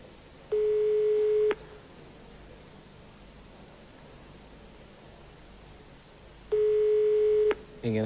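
A telephone call placed live on a 1996 Swedish TV lottery broadcast, with two clear ringing tones on the line, each about a second long and spaced several seconds apart, over a faint hiss.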